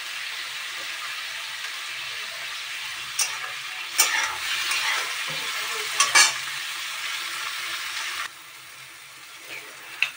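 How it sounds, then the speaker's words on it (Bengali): Salted onions sizzle in hot oil in a wok while a utensil scrapes and stirs them, giving several clattering strokes over a steady frying hiss at close range. "পেঁয়াজ ভাজা হওয়ার জন্য আমি এর ভিতরে একটু নুন দিয়ে দিলাম।"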